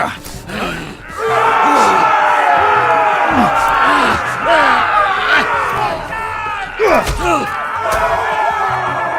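An arena crowd in a Game of Thrones video game shouts and roars throughout, loud and sustained, with voices rising in wavering yells and a few sharp impacts.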